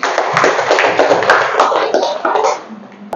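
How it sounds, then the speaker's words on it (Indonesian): A classroom gives a student named Ilman a round of applause: dense, steady clapping from many hands for about two and a half seconds, then it fades out. "Tepuk tangan tuh Ilman."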